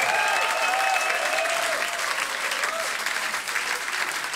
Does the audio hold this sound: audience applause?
yes